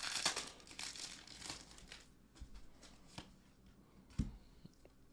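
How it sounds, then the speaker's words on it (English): Pokémon card booster packs being torn open, their foil wrappers crinkling in close, loud bursts at first, then quieter intermittent rustles and a sharp crackle near the end. "I am not good at opening packs."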